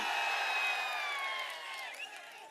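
A large crowd at a political rally in Thiruvarur, Tamil Nadu, sends up sustained cheering and shouting, a dense roar of many voices heard from a distance.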